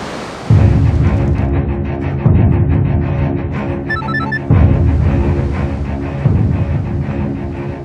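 A telephone rings on and on without being answered, four loud repeated ring bursts about two seconds apart, each starting sharply and trailing off, with no one speaking.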